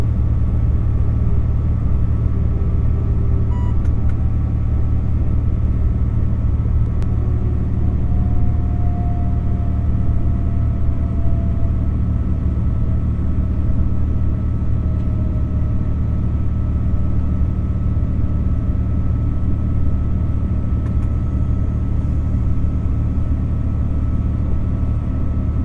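BB 22200 electric locomotive braking, heard from the cab as a steady low rumble and hum with faint tonal whines sliding gently downward, continuous and fairly loud.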